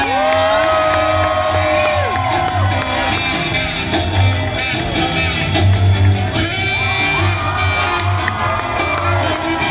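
An audience at a sea lion show at a state fair cheers and shouts loudly, a dense crowd roar with high whoops and children's yells rising and falling in waves throughout.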